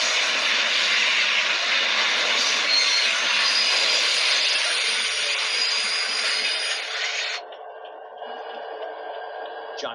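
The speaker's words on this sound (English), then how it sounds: "The bus didn't check for that approaching train" An approaching train in a BeamNG driving game makes a loud, steady rumbling roar. The sound drops off abruptly near the end, leaving a quieter tone.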